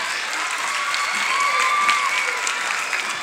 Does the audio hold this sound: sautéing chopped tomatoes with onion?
no